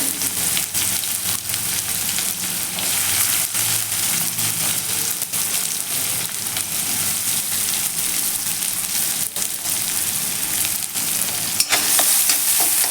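Onion frying in oil with cumin, asafoetida and curry leaves for a chickpea greens dish, a steady close sizzle with occasional stirring scrapes and no talk.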